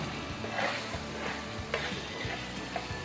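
Chicken liver fry cooks in a pan over a low, continuous sizzle while a spoon stirs it, leaving a few soft scraping strokes and clinks against the metal.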